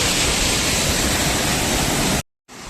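Madaka waterfall at Bajpe pours in a loud, steady broadband roar, close and continuous, then cuts out abruptly near the end before resuming more faintly.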